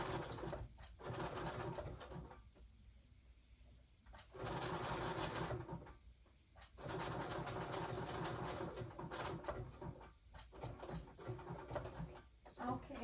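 A domestic sewing machine runs in short stitching bursts with brief pauses between runs, a steady mechanical whir at moderate level, with pigeon-like cooing and faint voices in the background.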